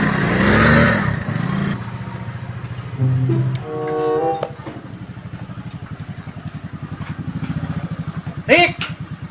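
A motorcycle engine putters and idles nearby with a rhythmic throb, briefly revving early on, while people chat over it.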